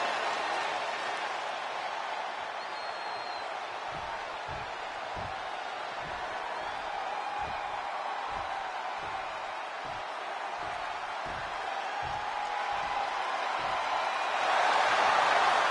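Arena crowd in the WWE 2K26 wrestling video game, a steady wash of crowd noise with rhythmic low thumps of stomping or clapping, swelling louder toward the end.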